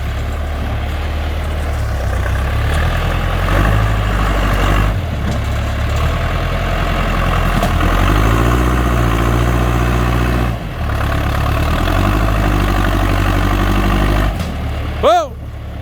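A John Deere 440 skidder's diesel engine runs steadily and loudly close by while it pushes trees over, its low rumble rising and falling with load, with a brief higher whine near the end.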